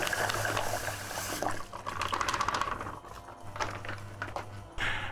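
Hot water is poured quickly into a plastic fermenter for a lemonade cider kit, giving a steady splashing gurgle with a low filling tone that pauses briefly midway.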